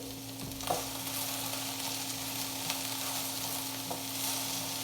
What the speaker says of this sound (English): My pan back here is what I'm going to sear